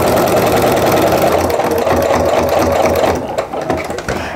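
A sewing machine stitches a quilted Christmas tree mug rug, a loud, steady motor hum and needle chatter running close up before easing off near the end.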